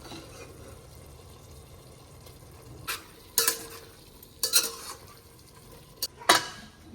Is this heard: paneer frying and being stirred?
yes